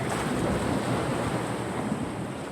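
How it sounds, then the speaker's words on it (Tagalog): Steady, continuous wash of sea waves at a beach, rumbling low and even throughout with some wind buffeting the microphone and no voices. "Ayan, andito pa din tayo sa dagat"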